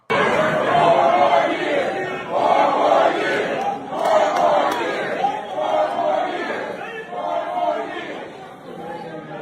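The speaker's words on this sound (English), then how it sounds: "The brothers and sisters in the crowd were chanting 4 more years for Massa Trump." A crowd at a Trump rally chants "four more years" in loud, rhythmic waves of many voices that rise and fall in repeated surges over several seconds.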